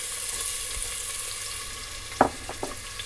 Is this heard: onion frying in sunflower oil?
yes